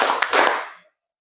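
A classroom group doing a rhythmic 'tepuk' clapping pattern at an Islamic university teacher-training session, a few quick loud claps close together before the sound fades off into silence.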